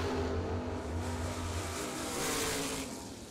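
Race cars, including a Corvette or Camaro, roar down a drag strip at a motorsports event with a loud, sustained engine drone that swells and then slowly fades as they pass.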